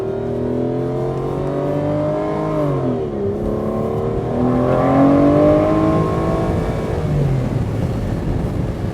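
A 2014 Aston Martin Vanquish Volante engine, a loud, close, sustained growl that rises and falls through several revs and gear changes, with no talk over it.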